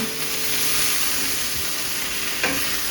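Sweet potato hash frying in a pan, giving off a steady, close broadband sizzle with light stirring scrapes throughout and one brief louder scrape near the end.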